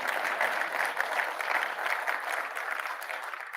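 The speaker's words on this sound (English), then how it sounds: "You can clap for that." Steady audience applause, a dense wash of clapping hands that holds at an even level for a few seconds with no speech over it.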